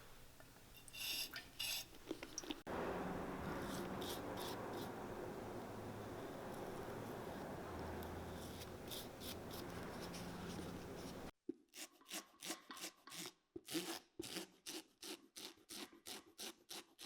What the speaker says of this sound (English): then we're gonna take the rougher and just rough this up really well so that the glue adheres